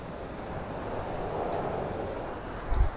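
Ocean surf at Anjuna Beach in Goa, a steady broad wash of breaking waves with wind rumble on the microphone and a brief gust near the end, no talking.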